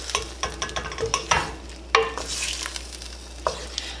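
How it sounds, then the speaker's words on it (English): Ghanaian-style mackerel and vegetable sauce stirred in a pot, a string of sharp spoon knocks and scrapes over a faint low sizzle and hum, fairly quiet and close. "Go ahead and stir it all together"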